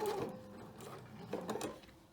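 Sewing machine top stitching along a hip purse pocket, a steady close mechanical whir with faint stitch rhythm, no talking.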